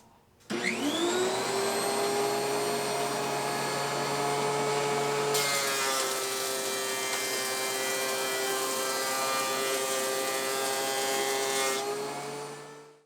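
Wood thickness planer feeding a workpiece through: the motor spins up sharply, then a loud, steady whine and rumble, with the pitch and texture shifting midway as the cutterhead bites, before winding down at the end.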